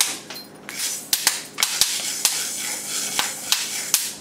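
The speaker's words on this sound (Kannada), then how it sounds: "ಹುರುಳಿ ಕಾಳು ಒಂದು ಸ್ವಲ್ಪ ಜೋರಾಗೆ ಸಿಡಿತಾ ಇದೆ." Horse gram seeds dry-roasting in a pan crackle with sharp, irregular pops, about a dozen loud snaps scattered over a soft background sizzle and stirring.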